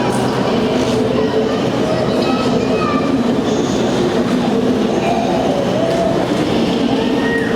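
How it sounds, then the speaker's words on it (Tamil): A train runs past on rails in Berlin, a steady broadband rumble with faint wheel squeal tones, loud and continuous throughout, with light talk underneath. "எங்களுக்கு கீழே ட்ரெயின் ஓடுது"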